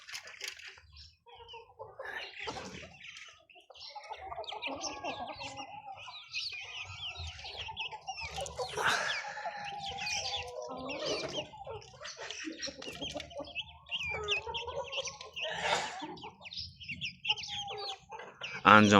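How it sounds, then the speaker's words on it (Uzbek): Large Adler roosters in a pen give scattered clucks and brief calls over about twenty seconds, soft and moderately distant, with no talking. "Xo'rozlarimiz hammasi sog'lom, juda ham yirik xo'rozlar mana."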